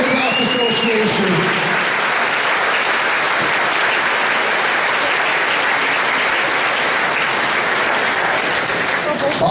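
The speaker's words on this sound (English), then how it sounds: "Big round of applause, please, for the Campbell River Minor Lacrosse Association." A crowd at a minor lacrosse championship recognition ceremony applauds the Campbell River Minor Lacrosse Association, a loud, dense, continuous wash of clapping, with some voices faintly audible at the start.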